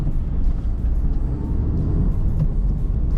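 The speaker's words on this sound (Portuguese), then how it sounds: "Mas ó, o ronco do motor não chega a ser nada de espetacular" A Honda Civic Type R on the move gives off a steady low engine drone and road rumble from inside the cabin, continuous and fairly loud, with no one speaking.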